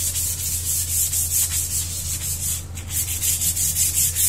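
Sanding scrapes across the outside of a dried cement vase in quick repeated rubbing strokes, close and steady over a low electrical hum.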